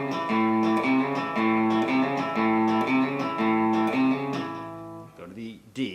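Hybrid-picked electric guitar lick alternating higher-string and lower-string hits in a steady repeating rhythm, close and fairly loud and played alone, with distortion or effects coloring the tone before it thins out and tails off near the end.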